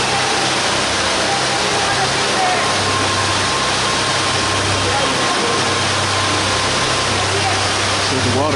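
Underground waterfall inside Ruby Falls cave, a steady broadband roar of falling water filling the space continuously, with a low rumbling hum beneath it and voices faintly present.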